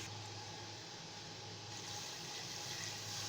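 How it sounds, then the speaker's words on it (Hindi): A litre of water pours steadily into a cooking pot of meat, potatoes and spices for a potato and mutton curry, giving a continuous close splashing rush with no talk. "तो ये हमने डाल दिया पूरा 1 लीटर पानी।"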